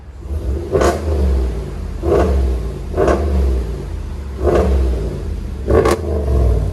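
Aggressive, unmuffled 5.7L Hemi V8 revs of a 2020 Ram Rebel pickup with muffler delete close up: four quick, sharp throttle blips over a steady, heavy idle rumble, each one barking and dropping back fast.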